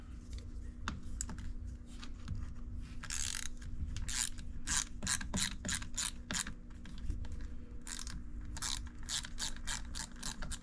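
Ratchet clicking steadily while backing bolts out of a 6.0 Powerstroke HFCM on a diesel truck, close-up rapid ticking bursts with short pauses between strokes over a low background hum.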